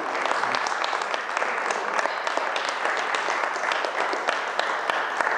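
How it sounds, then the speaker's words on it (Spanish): A church congregation claps steadily together during a Spanish-language sermon, a dense, even wash of applause that lasts throughout without pause. "Cuando le damos el aplauso al Eterno"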